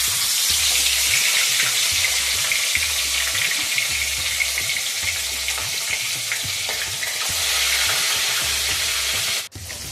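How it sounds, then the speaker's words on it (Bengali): Small chara pona fish fry in smoking-hot oil with a loud, steady crackling sizzle up close, broken by light stirring clatter and briefly cutting out just before the end. "এবার আমি মাছটাকে ভেজে নেব।"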